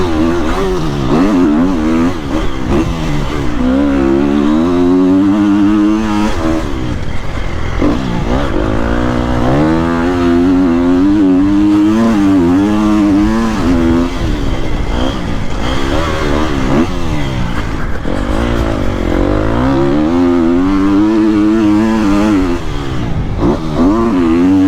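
New Triumph 250 motorcycle engine revving and accelerating repeatedly, loud and close, with rising and falling engine pitch through several gear changes and no talk.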